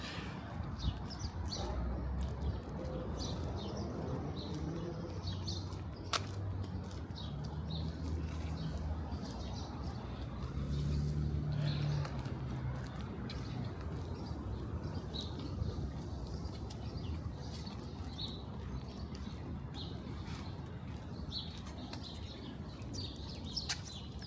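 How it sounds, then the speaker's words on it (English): Birds chirp faintly on a street in Jackson Heights, Queens, with a pigeon cooing, all set against a steady wash of city traffic and overhead plane noise. "You hear the birds sound like they're either fighting or they're getting along."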